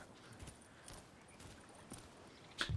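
Horse hooves in Red Dead Redemption 2, faint irregular clip-clop steps on soft ground spaced through the moment, ending in a louder closer thump.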